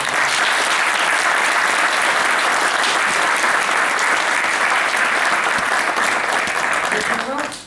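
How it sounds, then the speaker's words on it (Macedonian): Loud, dense applause from a large audience at a panel discussion on organ donation in Kavadarci, continuous for several seconds before tapering off at the end. "Ве молам еден огромен аплауз."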